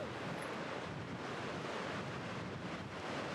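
Steady, loud wind buffets across an open golf course at the New Zealand Open, a continuous rushing roar with no pauses and no voices.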